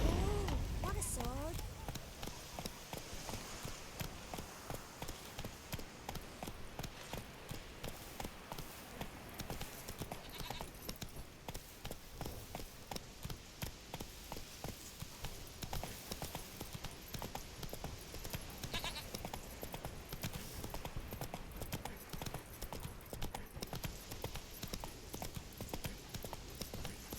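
Geralt's horse Roach gallops in The Witcher 3, a fast rhythmic clip-clop of hooves running steadily throughout, with a brief voice and game sounds mixed in at moderate level.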